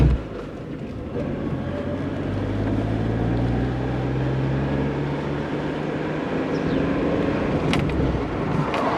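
A 1997 Geo Metro with a manual transmission cruises in fourth gear at about 30 mph, its small engine giving a steady, close, continuous drone with road rumble and no breaks.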